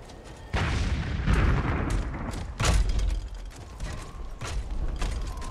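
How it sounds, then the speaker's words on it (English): Artillery shells exploding in the real-time strategy game Iron Harvest, several loud booming blasts at irregular intervals layered over rumbling battlefield noise and mechanical clanking. "Artillery inbound!"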